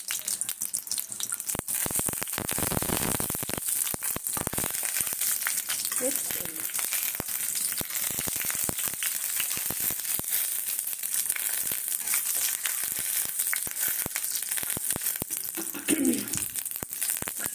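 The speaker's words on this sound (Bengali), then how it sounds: "বড়িটাকে আমি ভেজে নেব, কেননা শাকটা এত তেতো তো।" Bori lentil dumplings frying in oil in a pan, a continuous crackling, spattering sizzle that stays loud and close throughout, with brief faint voice sounds now and then.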